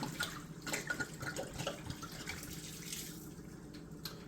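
Wine pours from a bottle while chicken cooks, a faint, steady trickle of liquid with a few soft clinks and splashes in a quiet kitchen.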